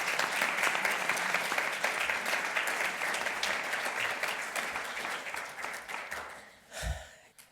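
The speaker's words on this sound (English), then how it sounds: "let's clap him up, please" An audience at a Paul Harris Fellows ceremony applauds steadily as Bruce Valentine is called to the stage. The dense clapping holds for about seven seconds, then thins and ends with a brief low thump.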